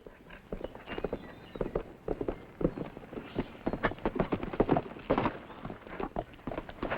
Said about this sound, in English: That's Kate's horse.